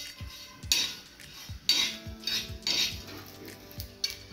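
Coriander seeds and sesame seeds dry-roasting in a pan for a Khandeshi masala, heard as repeated scraping and clinking of a spatula against the metal with soft rattling of seeds, close and fairly quiet, no voices.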